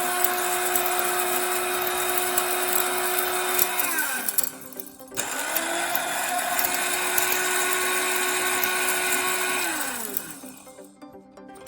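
An electric grinder whirs steadily and loudly while grinding spices for ginger garlic paste. Its high motor whine drops and briefly stops midway, restarts for a second long run, then winds down near the end.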